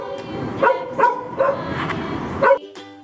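A dog gives a run of short, sharp barks and yips in quick succession, fairly close, ending with a higher whimpering note.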